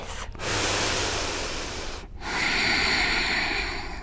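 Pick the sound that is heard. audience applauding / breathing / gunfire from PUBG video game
breathing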